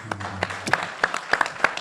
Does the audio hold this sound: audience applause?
yes